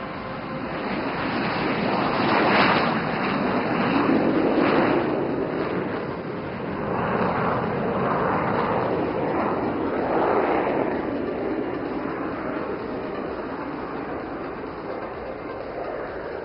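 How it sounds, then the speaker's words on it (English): Suryakiran aerobatic team jets taking off in a Vic formation at the Aero India 2025 flying display at Yelahanka Air Force Station, a broad, steady roar that swells and fades like a distant rushing rumble. "all the 9 aircraft of the Suryakiran team are now airborne"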